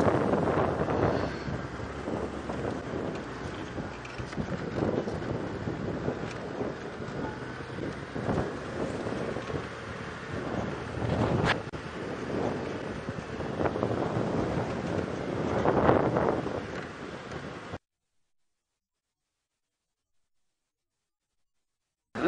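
Strong wind during an early-morning sunrise safari drive, a loud continuous rumbling buffet across the microphone with gusty swells, heard alone for most of the stretch before cutting to silence near the end.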